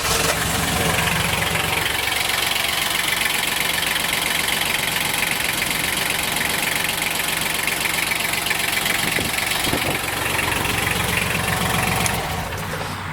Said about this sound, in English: We'll crank this one up. We don't know if we've ever cranked a diesel before, but turn it on.